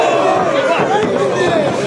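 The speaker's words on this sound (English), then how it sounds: "MKK is just getting more determined to dismantle the Ultimate Powers the more he hears the boos and jeers of the crowd" A wrestling crowd at an indoor show boos and jeers in a steady, dense roar, with voices mixed through the noise for the full stretch.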